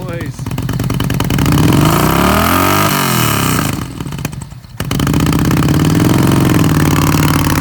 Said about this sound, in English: how about that muffler? Make some noise.